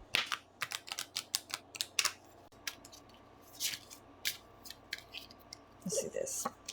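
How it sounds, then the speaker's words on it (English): Tarot cards being shuffled by hand, giving quick, quiet riffling flicks and soft card slaps in short irregular bursts, close up. "Let me shuffle this up."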